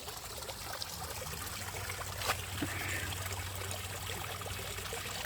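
Water from a koi pond trickles through a homemade skimmer set in the wall, a soft, continuous burble heard close under a faint low hum.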